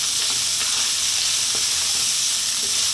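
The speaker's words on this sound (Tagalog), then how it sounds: "Haluin lang natin sandali." Chicken spring roll filling seasoned with garlic powder, salt and pepper stirred in a hot pan, a steady loud sizzle with soft scraping strokes throughout, no voices.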